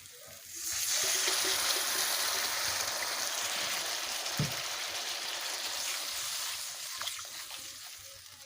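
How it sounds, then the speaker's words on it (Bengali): Water poured into sizzling poppy seed paste in a hot pan while cooking rui posto, a broad hissing rush that surges in and holds steady for several seconds before gradually easing, with a faint knock midway. "পোস্ত এবার ভালোভাবে কষে নিয়েছি দিয়ে দেবো পরিমাণ মতো জল"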